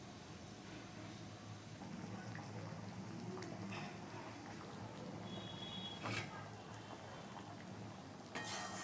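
Masoor lentil dal with egg simmers in a pot, giving a faint, steady bubbling with occasional soft pops and spits.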